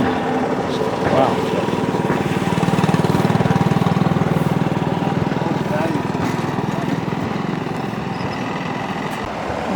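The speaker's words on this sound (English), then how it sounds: "Gas-powered jumping jack." A gas-powered jumping jack compactor runs at an engine swap meet with a steady, loud, rapid engine chug and a fast knocking pulse that holds for the whole stretch. Voices talk faintly over it.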